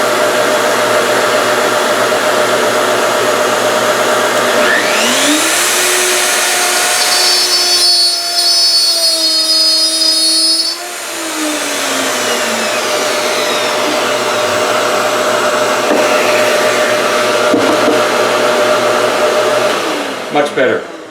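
A Festool OF 1400 router spins up, whines loudly as it makes a test cut in wood stock, then winds down, close and loud.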